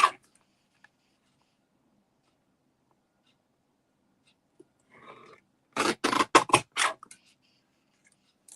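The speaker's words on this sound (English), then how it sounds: "So I'm just going to trim it down a bit." Scissors trim a paper jumbo gift tag in a quick cluster of four or five crisp, close snips after a long quiet stretch.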